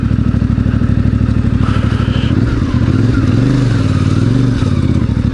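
A CFMOTO 450MT adventure motorcycle rides along, its engine droning steadily and loudly close by, then the pitch dips and rises as the throttle changes, with light clatter over the rough ground near a quarry.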